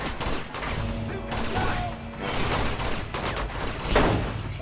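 Dense gunfire in the Uncharted 2: Among Thieves Remastered video game, a continuous loud fusillade of overlapping shots and bursts that surges and eases for several seconds, with no voice.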